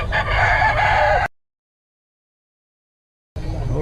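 Rooster crowing loudly up close among farm chickens, a bright sustained call that cuts off abruptly into silence before the birds resume near the end.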